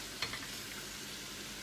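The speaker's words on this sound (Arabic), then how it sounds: "نقلب الكلام الجميل ده كله مع بعض كده." Liver, gizzards and sausage stirred together in a frying pan for mixed sandwiches, giving a steady quiet sizzle with a brief scrape of the spoon near the start.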